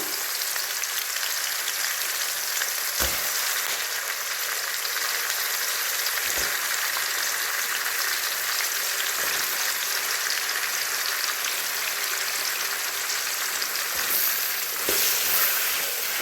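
Tomato and onion for a mutton curry fry in a pan with a steady, even sizzle that runs unbroken the whole time, broken only by a few faint clicks of stirring.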